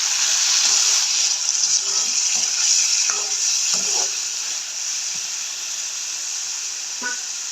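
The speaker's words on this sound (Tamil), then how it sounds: "தக்காளி பழம் வந்து வதங்கி வரது" Onions and tomatoes fry in a pan for a Jaffna potato curry, giving a loud, steady bright hiss broken by occasional scraping stirs that fade a little toward the end.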